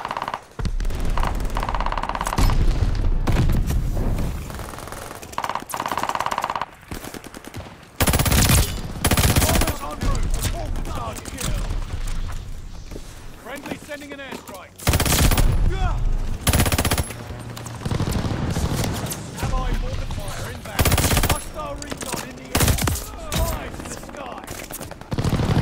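Nikita AVT assault rifle fire in a first-person shooter on PS5, loud bursts of automatic shots repeating throughout with brief pauses between volleys.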